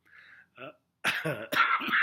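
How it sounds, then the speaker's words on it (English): A few short throat-clearing coughs, close and fairly quiet, come in a cluster with brief pauses between them. "there's my cough"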